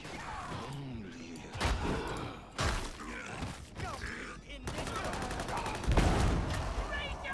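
Gunfire in Darktide comes in bursts of rapid shots mixed with heavier blasts and mechanical clatter, loud and in the foreground, and game voices sound between the volleys.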